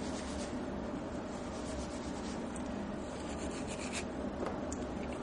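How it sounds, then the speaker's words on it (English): Superfine steel wool is rubbed in circular motions over a metal piece, giving a continuous close scratchy rasp of steady, even loudness with no talking. "You want to polish the entire piece in circular motions."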